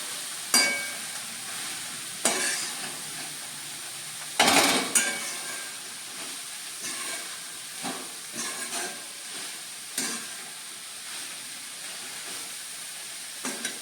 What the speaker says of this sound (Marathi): भाजी छान ढवळून घेऊया आपण आधी जरा.